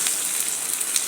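Pizza khuboos fries in a well-used pan, giving a steady, close-up sizzle with soft crackling and no talk.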